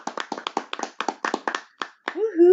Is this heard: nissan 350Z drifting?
no